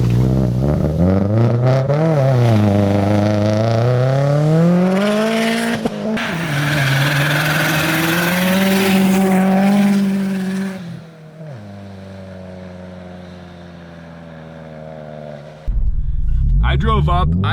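A Subaru with open wastegate boost accelerates hard along a snowy mountain trail, the loud engine climbing and falling in pitch through repeated revs, then easing off to a lower drone before a brief surge near the end.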